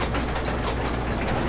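A steady, grinding mechanical ratcheting of a lever mechanism in the game Amnesia, like gears and a pawl clicking rapidly, continuous and loud for its whole short length.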